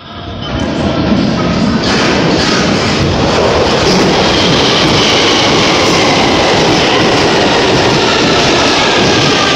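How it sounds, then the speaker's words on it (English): A London Underground train roars in, building quickly to a loud, steady rumble with rattling wheels and a faint metallic squeal. "There's a train coming because I can feel the breeze coming along."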